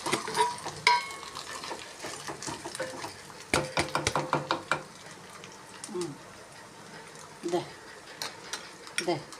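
Turmeric is being stirred into ginger-garlic paste frying in a pan, heard as a low sizzle under bursts of metal spoon scraping and clanking against the pot, close and uneven in rhythm.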